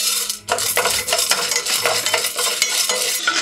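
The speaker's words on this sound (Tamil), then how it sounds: "அடுத்தது நம்ம நிலக்கடலையும் ஏலக்காயையும் வறுத்துக்கலாம்." Peanuts and cardamom pods dry roast in a pan, stirred steadily with a utensil that scrapes and rattles against the metal in quick, close strokes under a faint crackle, with no voices.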